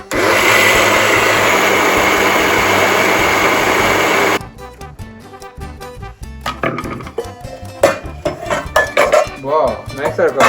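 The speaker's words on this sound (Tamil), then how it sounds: "நான் மிஷினில் போடுறேன், இப்போ கிரைண்ட் பண்ண போகிறேன்" An electric wet grinder runs loudly, grinding soaked fenugreek for dosa batter, as a steady whirring roar for about four seconds before it cuts off, followed by clinking of metal pots and utensils.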